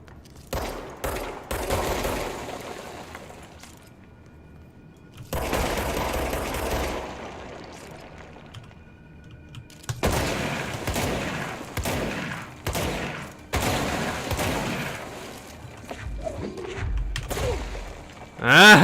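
Gunfire in the video game Control as a wall with a painting is shot, coming in repeated loud bursts of rapid shots separated by short pauses, with a voice talking at times between them.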